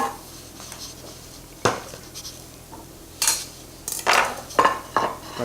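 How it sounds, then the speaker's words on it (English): Thai steak salad with tomatoes and onions being served onto a plate, with several clattering scrapes and clinks of utensils against the dish, close and intermittent. "So, put some salad down on our plate."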